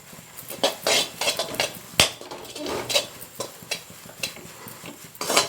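Kamarkattu candy mixture with ghee is stirred in a pan with a metal spoon, producing close, uneven clinks and scrapes with occasional sharper knocks against the pan.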